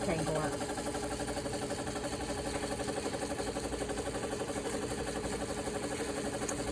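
A Juki single needle sewing machine winding a bobbin, a fast, steady mechanical whir with a rapid regular pulse, continuous and close at a moderate level.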